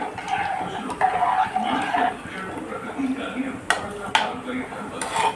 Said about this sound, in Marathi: आणि तिला कढ येईपर्यंत फिरवत राहायचं.